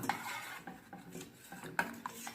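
A spoon stirs a chocolate mixture in a pot over a low stove flame, with soft scraping and a few bright clinks of metal against the pot's side, quiet and close, no voices.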